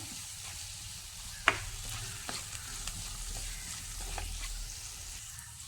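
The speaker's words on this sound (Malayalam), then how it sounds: "ഇനി ഇതെല്ലാം കൂടി ഒന്ന് വഴറ്റി കൊടുക്കാം" Chili powder, coriander powder and garam masala sautéed in a pan for a Kerala curry, a quiet low sizzle with soft scraping stirs and one sharp utensil tap, steady and close.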